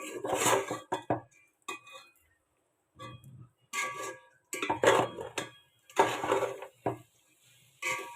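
Chicken and vegetable khichuri with rice and lentils is stirred and sautéed in a pot, a series of irregular metallic scrapes and clinks of a spoon against the pot separated by brief quiet gaps.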